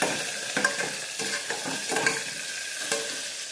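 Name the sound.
vegetables frying in oil for vegetable pulao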